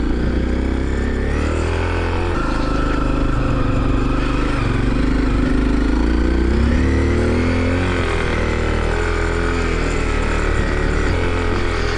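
A Honda CRF250L dual-sport motorcycle climbs a rocky forest road near Estes Park, Colorado, its engine droning loud and steady from close by, the pitch rising and falling gently with throttle over the bumpy terrain.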